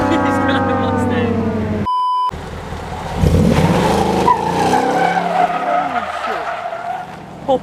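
A Ford Mustang launches and skids at a car meet: a loud revving engine, a short beep, then screeching tire squeal and roaring exhaust close by, with excited voices over it.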